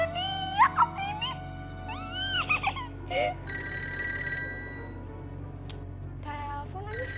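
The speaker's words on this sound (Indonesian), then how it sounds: "Telepon lagi." A household telephone rings with a bright, melodic electronic tone in repeated short bursts, then a sustained ringing stretch, over a faint background hum.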